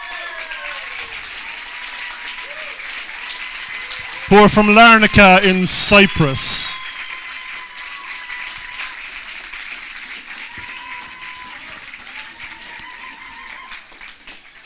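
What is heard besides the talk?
crowd applause for the Sensory Bee Nature Trail team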